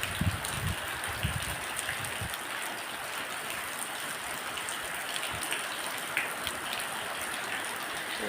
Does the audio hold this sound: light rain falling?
yes